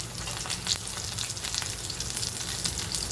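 Kababs fry on a large tawa griddle, giving a loud, steady, close sizzle that crackles continuously without any voices.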